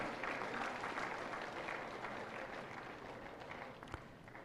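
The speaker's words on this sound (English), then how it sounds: "A big round of applause, please." An audience at an awards ceremony for a national-level World Elephant Day celebration applauds a prize winner: dense, steady clapping that fills the whole stretch evenly and fades slightly toward the end.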